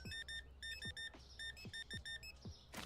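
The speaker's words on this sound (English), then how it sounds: "you hear this beeping?" In the video game Mert Mart, an electronic alarm beeps in rapid repeated bursts of high pips, separated by short gaps. Faint thuds sound underneath, and a burst of noise comes at the end.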